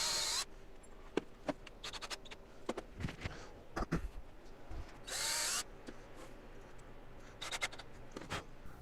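Power drill pre-drilling and driving screws into tabletop fasteners on a rustic wooden mini fridge table, heard as several short bursts of whirring with scraping and handling noises between, close up in a quiet workshop.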